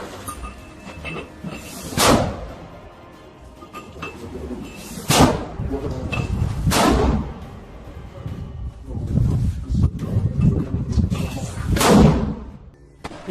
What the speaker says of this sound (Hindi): एक खंडर पड़ी इमारत में अल कासिम के कुछ लड़ाके लॉन्चर से लगातार रॉकेट फायर कर रहे हैं।